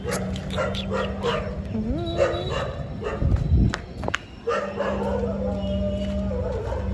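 Puppies and dogs bark, yip and whimper close by in loud, overlapping bursts. A rising whine runs through the middle, and a short thump breaks the barking.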